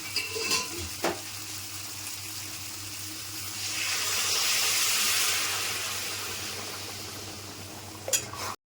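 Hot water poured into a pan of frying pointed gourd and potato, a rising rush and hiss that swells in the middle and fades, with a few utensil knocks at the start and end, close and quiet.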